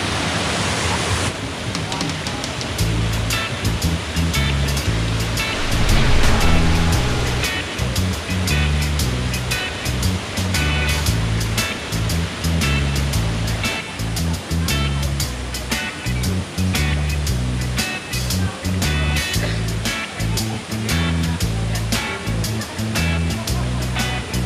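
Water from a natural spring at a motocamping site flows and splashes continuously, a loud steady rushing with broadband hiss and low rumble, close by and unbroken.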